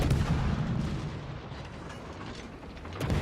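Enemy cruiser gunfire in World of Warships, distant rumbling artillery salvos and booms layered over a low, steady battle soundscape.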